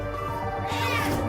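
A pet cat named Mr. Bink meows once, a drawn-out close cry over steady room background, with no talk during the call.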